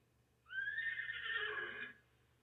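A single horse whinnies, one loud drawn-out neigh of about one and a half seconds rising then wavering before fading, heard alone against a quiet background.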